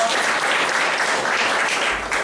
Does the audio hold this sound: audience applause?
yes